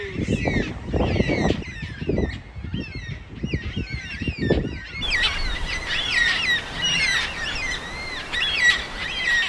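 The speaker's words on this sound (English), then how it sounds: "These trees are full of black cockatoos." Black cockatoos call from trees in a Victorian town, a flock of loud, wailing and screeching cries overlapping near and far, growing denser halfway through.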